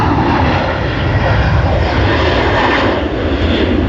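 Qantas airliner engines at Sydney Airport as the jet taxis toward the holding point for runway 16 left, a steady, loud broadband engine roar and rumble without pauses, carrying on without any talk.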